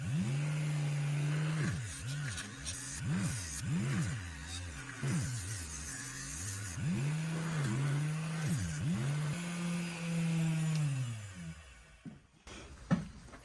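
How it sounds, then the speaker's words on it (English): A 3-inch grinder cleans up the blade of a vintage Schrade Old Timer knife, its motor whirring in a steady hum that swells and dips repeatedly as the blade is worked, then winds down and stops. "now we're gonna put it on a 3-inch grinder."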